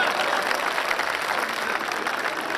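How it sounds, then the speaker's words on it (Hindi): Steady applause from the audience at a Hindi kavi sammelan poetry gathering in Navi Mumbai, a continuous even wash of many hands clapping, moderately loud and unbroken throughout. "एक बार ताली बजाइए आप"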